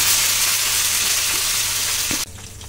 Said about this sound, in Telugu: రెడ్ చట్నీ కోసం మనం తయారు చేసుకున్న పోపులోకి గ్రైండ్ చేసుకున్న చట్నీని వేసుకోవాలి.